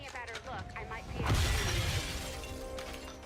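Glass shattering in XCOM: a sudden crash and spray of breaking fragments, with people talking before and around it.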